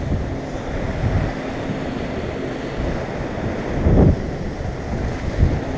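Ocean waves wash and splash against a Hawaii shore in a rough, continuous surge with wind buffeting, one louder splash swelling midway, no voices.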